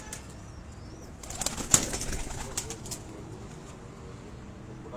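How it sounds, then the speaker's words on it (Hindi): Pigeons on a rooftop give a brief burst of wing flapping and faint cooing, close and short-lived, set against a quiet outdoor background. "दूसरे कबूतर बाहर बैठे रहे। सिर्फ अली वाले कबूतर।"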